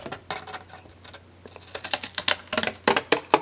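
Long-bladed Tim Holtz scissors cutting through paper, starting with sparse snips and building into a rapid run of crisp crunching cuts, close and moderately quiet.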